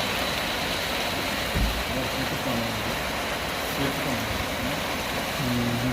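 Heavy rain falls outside during a beef biryani cook, a steady, dense hiss of downpour filling the whole stretch at an even level, with faint voices murmuring low underneath.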